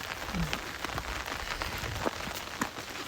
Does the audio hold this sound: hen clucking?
no